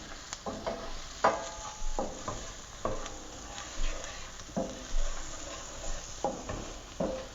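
Chickpea curry with coconut milk is being stirred in a pan over gentle heat, producing soft, rhythmic scraping and stirring strokes roughly every half second, along with faint sizzling, heard up close.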